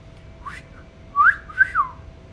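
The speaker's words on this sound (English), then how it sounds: "god, what a horrible whistle" A character whistles in the video game Disco Elysium, a few short rising and falling whistled notes, close and clear over quiet background hiss, with no talk.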